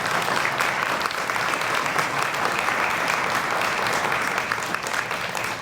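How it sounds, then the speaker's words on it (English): Audience applause for city employees asked to stand at a State of the City address in Fairmont, a dense, steady roar of many hands clapping throughout, loud and even from start to finish. "Give them a round of applause."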